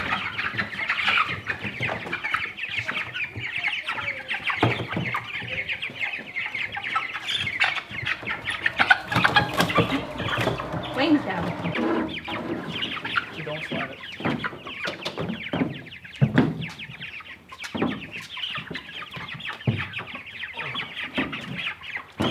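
Young meat chickens being moved into a transport crate for a chicken tractor at an off-grid log cabin, steady overlapping clucks and chirps, close and busy, with rustling and handling noise throughout.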